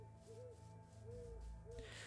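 An owl hoots in Minecraft, three soft, evenly spaced calls over a steady low ambient hum, quiet and somewhat distant.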